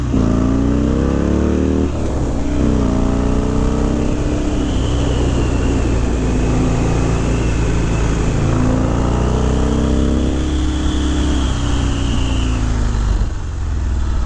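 A motorcycle with about 9,400 miles, freshly serviced, being ridden with a steady engine drone that rises and falls through gear changes, close and loud, with rushing wind and no talking.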